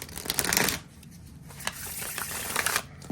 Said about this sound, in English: It is a beautiful shuffle.